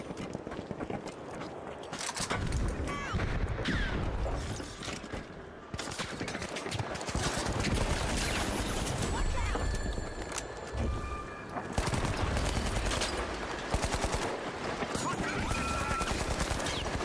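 Repeated bursts of gunfire in the arena shooter THE FINALS, with rapid shots, mechanical clatter and game effects, loud and fairly continuous with a short gap early on.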